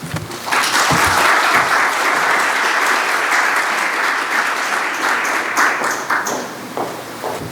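An audience at a history talk hosted by the Texas General Land Office and sponsored by the University of Texas at Austin breaks into steady, full applause welcoming a speaker, sustained and then thinning out with a few scattered claps.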